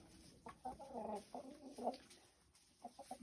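Chickens cluck in short, close, soft bursts, several quick clucks bunched together with brief pauses between them, over a quiet background at a poultry sale.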